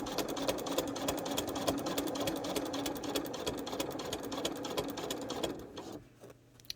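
A sewing machine fitted with a walking foot runs fast and steadily as it stitches fur fabric for a fursuit. The dense, rapid stitching is loud and close, then slows and stops near the end.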